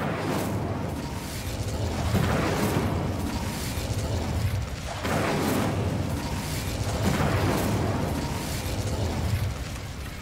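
A fire spell cast in Hogwarts Legacy, a rolling, loud burst of flame and explosive rumble that swells and recedes in repeated waves over several seconds, with no talk.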